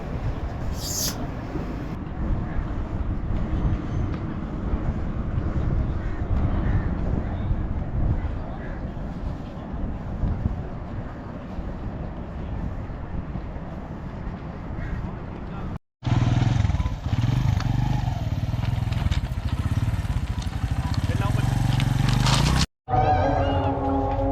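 A railway relief crane used for lifting sleepers and track maintenance rumbles steadily as it approaches along the line at sunset, a loud continuous engine-and-wheel drone that cuts out briefly twice, with someone talking over it.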